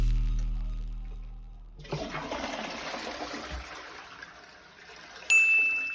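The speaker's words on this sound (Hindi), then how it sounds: "Flush of toilet." A toilet flushes with a sudden rush of water after a near-silent start, the gush settling into a steady swirling drain before a brief bright tone near the end; no one speaks.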